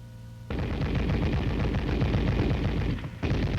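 An M73 coaxially mounted tank machine gun fires in a sustained, dense automatic burst, loud and close, with a brief break before firing resumes.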